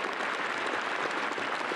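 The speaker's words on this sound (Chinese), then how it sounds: "我们热烈掌声欢迎他们。" An audience at an indoor year-end gratitude gathering in a bookstore claps, a steady, dense patter of applause that carries on evenly throughout with no voices over it.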